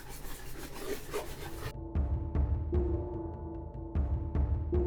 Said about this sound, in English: we're going to take our horsehair brushes and just go back and try to even out all the oils again and kind of do a finishing buff of them